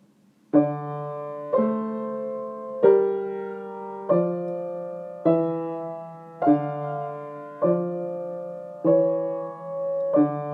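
Two lines sound together, a cantus firmus in the bass with a first species counterpoint line above it, moving note against note in eight or nine slow, evenly spaced sustained chords, clear and close with no talking.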